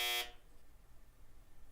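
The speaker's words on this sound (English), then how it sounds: "That is Steve on the buzzer" A quiz buzzer in an online game anniversary quiz show, one loud harsh electronic buzz lasting a fraction of a second, then quiet room tone.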